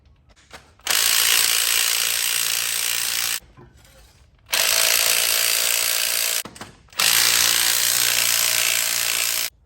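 Power tool tightening spring compressors on a Holden Commodore VT–VZ front strut, three loud, steady whirring bursts of a few seconds each with short quiet gaps between them.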